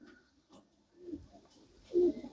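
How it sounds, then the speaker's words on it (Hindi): A pair of Rampuri pigeons in a village near Jaipur and Tonk give soft, low coos in two short, faint bursts close by. "ये देख सकते हैं आप जो है रामपुरी कबूतर का पेयर"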